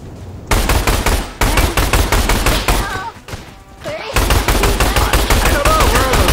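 Rapid automatic gunfire from the dinosaur survival shooter Orion: Dino Horde, loud and close, running in dense bursts with a short lull midway before resuming, with faint game sounds beneath.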